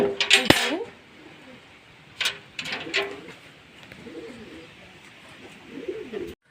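Soft pigeon cooing in bursts, mixed with clinking metallic clatter like a pot or bucket being handled nearby.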